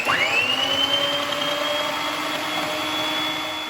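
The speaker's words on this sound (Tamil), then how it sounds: "வீட்டில் இருக்கிற டைசரை வச்சு கட் பண்ண போகிறேங்க." An electric dicer whirs steadily as it chops bottle gourd into small pieces for a tamarind curry, its motor spinning up in a rising whine and then holding a constant loud drone with no talking.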